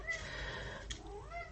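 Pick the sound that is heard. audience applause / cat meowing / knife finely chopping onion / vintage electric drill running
cat meowing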